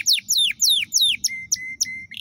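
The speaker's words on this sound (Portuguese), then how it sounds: "ele vai se animar com os outros pássaros cantando, né? Tipo, aqui tá cantando agora." Wild Brazilian birds, including great kiskadee, house wren and tanager, sing clearly nearby, a run of rapid descending whistled notes followed by steady repeated chirps, with faint low background rumble.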